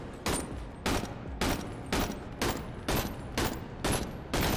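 Repeated gunfire from a heavy-recoil gun in the video game Bonelabs: eight loud, evenly spaced shots about half a second apart, each a broad, booming burst, with no talking.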